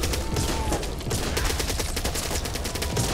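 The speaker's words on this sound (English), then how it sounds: "Enjoy the fireworks" Fireworks exploding in the Back 4 Blood video game, a dense rapid crackle of sharp bangs like a fusillade, loud and continuous for several seconds with no talk.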